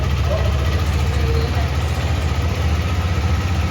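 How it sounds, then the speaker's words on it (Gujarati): A KTM 390 Adventure motorcycle engine idles steadily and close by, a constant low rumble with no revving, filling the whole short stretch. "કેટીએમની અવાજ સાંભળો"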